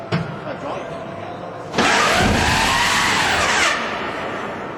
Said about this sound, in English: After some cranking, the gear falls of its own weight.